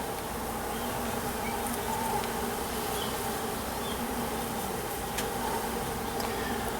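Honey bees around an open beehive during an inspection make a steady, dense buzzing drone that holds evenly throughout, with no talking.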